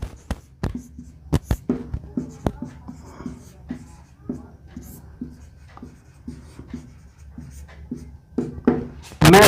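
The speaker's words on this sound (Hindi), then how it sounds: "इसका सेकेंड एग्जाम्पल भी मैं आपको लिख के देता हूं, लिखता हूं कि" Chalk or marker writing on a board, a series of short close taps and strokes in an uneven rhythm, with a speaker's voice faint in the background.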